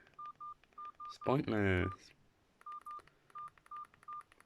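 Short bursts of telephone keypad DTMF tones from pressed keys beep in quick, uneven groups, near and clear, broken midway by a brief spoken phrase.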